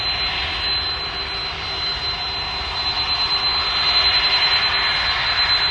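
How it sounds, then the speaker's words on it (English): A Boeing 767 taxiing at DFW airport, a steady loud jet engine roar with a thin whine on top, swelling slightly near the end, heard continuously from fairly close with no voices. "the 767 is taxiing in here, so that's what you can hear right now."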